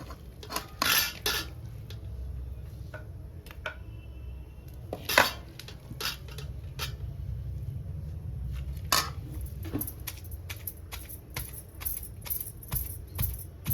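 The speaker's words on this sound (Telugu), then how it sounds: "ఇది కొంచెం చల్లారిన తర్వాత ఇంకా రోట్లు వేసి దంచుకుందామండి" Gongura leaves being pounded in a stone mortar for pickle: repeated sharp knocks and scraping clinks at an irregular pace, some louder, over a low steady background.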